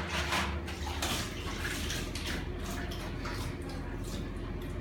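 Steady rushing water from a rinse cycle in a water treatment system in Haiti, a continuous close flow with a low hum underneath.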